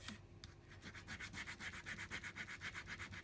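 Brushing to rub the top coating off scrapbooking pieces before painting, a quiet close scratchy rubbing in quick even back-and-forth strokes, about a dozen in a row, no talk.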